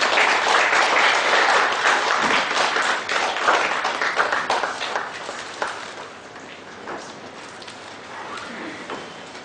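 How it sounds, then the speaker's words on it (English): Applause from a seated audience at a members' gathering as a guest is welcomed onto the stage, a full wash of clapping that slowly thins to scattered, softer claps. "Big round of applause, ladies and gentlemen."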